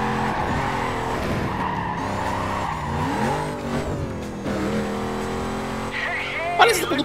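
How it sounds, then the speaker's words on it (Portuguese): Pontiac GTO engine roaring in the racing game Need for Speed: Carbon, a loud rising and falling muscle-car growl with tire squeals, under continuous talk. "gostei do ronco desse carro"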